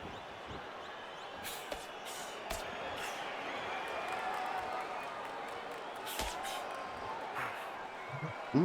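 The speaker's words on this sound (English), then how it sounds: "Boos from the crowd here at the Grand Theater" Crowd noise in an arena at a boxing match in the video game Undisputed, held at the Grand Theater: a steady, distant murmur of disapproving boos running throughout, with occasional sharper thuds and bursts rising above it.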